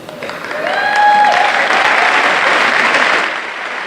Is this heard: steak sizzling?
no